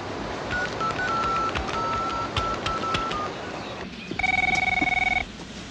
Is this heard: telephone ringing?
yes